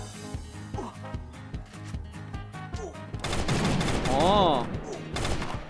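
Gunfire in the battle royale game Free Fire, rapid shots popping repeatedly under busy game music and effects, with a brief exclamation from a voice near the end.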